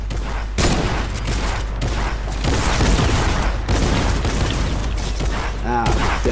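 Rapid, loud gunfire from a tactical shotgun in a first-person shooter game, with dense back-to-back blasts filling the whole stretch and no pause in the shooting.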